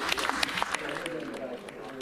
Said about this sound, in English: a little bit of claps because they weren't sure exactly if it was a successful landing or not